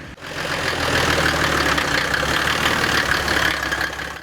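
Newly built buggy engine running during a test drive, a continuous rough mid-pitched roar that rises quickly and holds steady, close and loud, with no voices.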